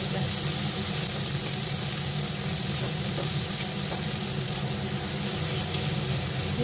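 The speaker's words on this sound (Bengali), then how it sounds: "পেঁয়াজটা একটু লাল করে ভেজে নেব।" Chopped onion lightly salted and frying in a pan for a Bengali bhola fish curry, producing a steady, close sizzle that runs unbroken throughout, with a low background hum.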